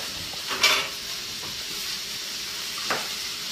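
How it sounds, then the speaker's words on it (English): A pan sizzles steadily while being deglazed for coq au vin, with a soft continuous hiss and a couple of brief louder bursts of spatter and stirring. "Now while I'm deglazing the pan, I'm going to take my garlic"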